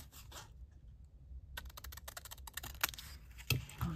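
Scissors cut a paper card for a faux vintage ID craft in a series of quiet, quick snips and scrapes, close and faint, after a short silent pause.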